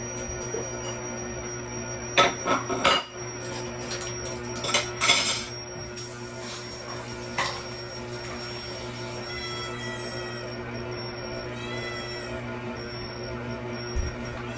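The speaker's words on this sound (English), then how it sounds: "I'm using a stand mixer. I'm just going to turn it on a 3. And let that mix." A stand mixer set to speed 3 churns peanut butter cookie dough with a steady motor whir, while dishes and utensils clink and clatter nearby in a few brief bursts, and no one speaks.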